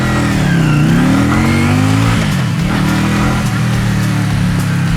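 Cheap Chinese V-twin cruiser motorcycle being ridden, its engine loud and close as it revs up, eases off and revs again in continuous rising and falling sweeps.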